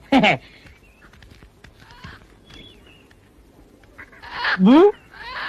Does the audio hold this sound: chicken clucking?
yes